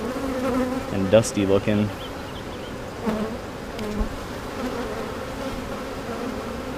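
Honeybees buzz as a steady low drone around an opened hive, with a few louder passes close by near the start while a voice speaks briefly.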